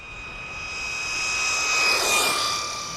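Electric motor of an FSR Marauder 1/10 RC desert buggy on lithium-ion battery power, a high whine with steady tones that swells and fades as it passes nearby, no talking.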